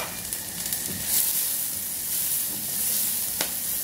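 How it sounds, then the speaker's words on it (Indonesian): Ingredients sauté in a pan with a steady close sizzle and occasional stirring scrapes, with no voices. "Tumis sampai harum ya."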